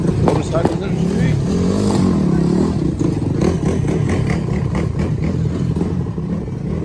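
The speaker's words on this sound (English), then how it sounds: "Motorcycles in the street." During a riot on a Los Angeles street, motorcycle engines rumble and rev continuously alongside general traffic clatter, fairly loud and close, with people talking over the din throughout.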